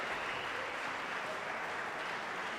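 Crowd at the 2014 Grasshopper Cup squash final, Shabana versus Momen, breaks into steady, dense applause and cheering that fills the whole moment without a break.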